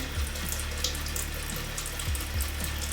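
Hot water runs steadily from a bathroom tap, a continuous close hiss and splash into a sink with no talking over it.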